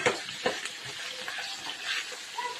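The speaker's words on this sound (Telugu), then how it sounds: "ఆయిల్ పోసుకొని ఉల్లిగడ్డ వేసుకున్న తర్వాత అయితే ఇది చికెన్ మంచిగా కలుపుకొని వేసుకోవాలి" Chicken frying with onions and tomatoes in oil in a home kitchen: continuous close sizzle with a few spoon-stirring scrapes, fairly loud and unbroken, no speech.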